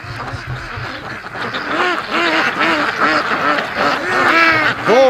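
A group of ducks quacks steadily and loudly close by, overlapping calls in quick succession with a faint rustle behind, on a free-range farm.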